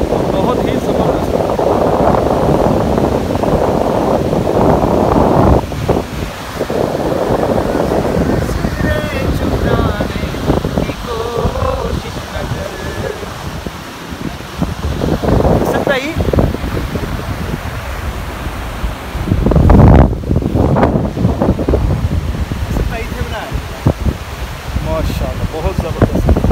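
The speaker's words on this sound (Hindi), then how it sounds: "दरियाए सवात का यहाँ देखें पानी का ज़ोर कितना ज़्यादा है, पानी में का बहाव कितना तेज़ है" Fast-flowing Swat River rushing with strong force, a loud continuous roar of churning water mixed with wind gusts, steady throughout with brief dips and surges.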